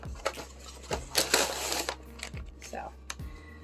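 Stove Top stuffing box being opened by hand: several sharp cardboard crackles and tearing rustles in close succession, with a few louder bursts near the middle, up close against a quiet room hum.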